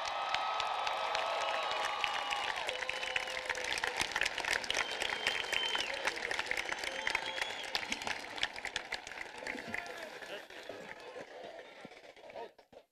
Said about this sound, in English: Let's have one more nice round of applause for our graduates.